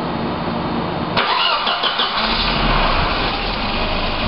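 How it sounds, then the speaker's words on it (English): Volvo 240 engine starting during a self-diagnostic test: a brief cranking whir, then the motor catches and settles into a steady, close idle. "we're going to have Iscafan start the engine"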